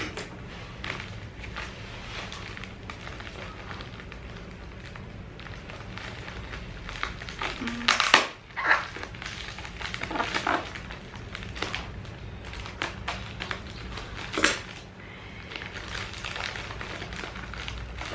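Crinkly rustling and tearing of a book parcel's pretty packaging and bubble wrap from an online bookstore, with soft handling noises throughout and a few louder crackles and rips partway through, close up with no talking.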